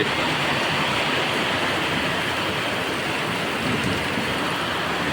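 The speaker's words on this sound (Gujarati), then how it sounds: "જોરદાર એકદમ કેવો વરસાદ છે" Heavy rain pours down in a dense, unbroken roar, loud and steady from start to finish.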